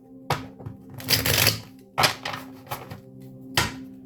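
A big pile of tarot cards is shuffled by hand in several quick, crisp bursts of riffling and slapping, close up and with short pauses between them.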